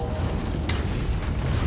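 A meteorite storm rumbles low and steady in the Treasure Planet video game, a dull continuous roar with a brief whooshing flare near the middle.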